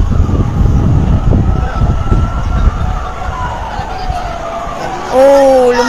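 Fire engine sirens wail at a fire in Greenhills, San Dionisio, Parañaque, under rumbling street noise and crowd chatter, then a loud rising-and-falling siren swells close at the end.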